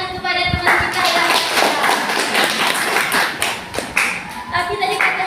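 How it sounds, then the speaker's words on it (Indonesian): Students in an Indonesian classroom clap for a classmate, a loud, dense burst of hand claps mixed with children's voices and chatter throughout. "beri tepuk tangan kepada teman kita"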